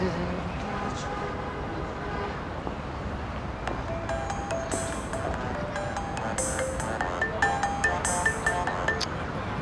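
A phone ringtone plays a repeating melodic pattern in the second half, sounding under people talking nearby.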